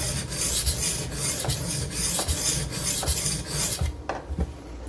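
A Benchmade Redoubt knife edge grinds against a sharpening stone in steady, rhythmic rasping strokes, close and continuous, with no voices.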